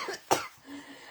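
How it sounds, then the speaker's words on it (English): A single sharp cough bursts out loudly from a person, alone and brief, with quieter breathy vocal sounds before and after it. "I'm coughing because I'm laughing."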